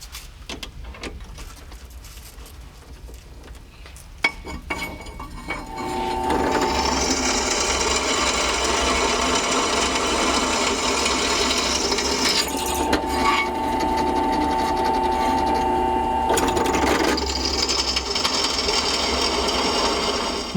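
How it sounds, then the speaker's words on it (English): Steady rasping grind of a drill boring into a horseshoe with a 17/64 bit for traction plugs, starting about six seconds in and running loud and continuous to the end after a quieter stretch of handling noise. "now I'll change it to a 17/64 drill bit for the plugs"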